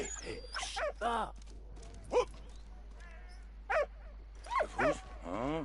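A dog in the video game Valiant Hearts gives a few short yips and barks, spaced apart and fairly close, mixed with a brief whimpering tone over a low steady hum, with voices heard around the barks.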